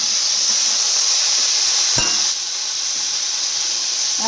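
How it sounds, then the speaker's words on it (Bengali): Cauliflower frying in a pan gives a loud, steady close hiss and sizzle, with one brief sharp crackle near the middle and no voices. "হয়ে গেছে ফুলকপি ভাজা।"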